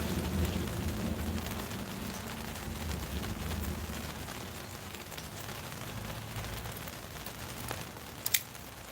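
Light rain falls steadily outdoors near an alley, a soft continuous patter with low rumbling background noise, and a brief sharp tap near the end.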